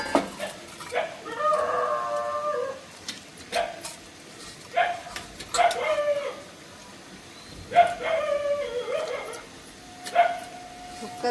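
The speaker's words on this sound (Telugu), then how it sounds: "కుక్కలు ఎట్టరుస్తుంది, ఎక్కడ పోతున్నా కుక్కలు ఎక్కువ అయింది." Dogs barking outdoors in several short bursts spread across the clip, with distant rooster crowing in between, heard over faint background noise during prawn biryani cooking.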